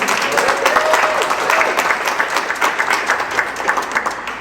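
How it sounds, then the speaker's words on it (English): Audience applause for a climate jobs team at a city event in Providence, a dense, steady wash of clapping from a crowd that holds throughout without fading. "So a round of applause to the Climate Jobs team."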